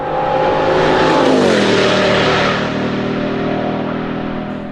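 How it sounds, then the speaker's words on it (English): A track-only Bugatti Bolide race car with an 1825-horsepower 16-cylinder W16 engine roars loud and close, its pitch climbing and then dropping as it passes, leaving a sustained engine drone that fades slightly. "the track-only Bugatti Bolide that technically has the ultimate version of this 16-cylinder"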